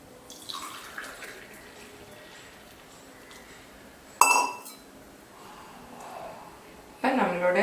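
Masala chai poured into a serving glass: a faint liquid trickle under soft background noise, a bright clink of glass at about four seconds, then a louder, steadier pour near the end.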